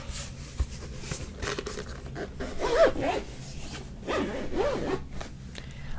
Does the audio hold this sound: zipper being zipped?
yes